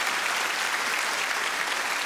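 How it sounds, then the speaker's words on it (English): A stand-up comedy audience breaks into a dense, even wave of applause, loud and continuous for a couple of seconds with no one speaking over it. "Round of applause for the Star Wars fan."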